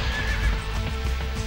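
A horse in the Dynasty Warriors 3 video game gives a loud, close whinny over rapid clip-clopping hooves, all within a brief burst.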